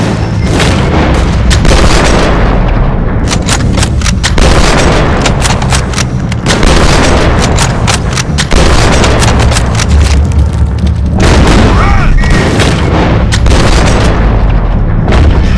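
Loud, sustained gunfire fills a Red Dead Redemption 2 shootout against the O'Driscolls, with dense rapid shots and booming blasts overlapping continuously amid heavy low rumble.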